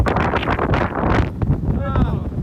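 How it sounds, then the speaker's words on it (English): Gusty wind buffets the microphone in a steady low roar on a hilltop while someone talks over it. "it's pretty windy up here"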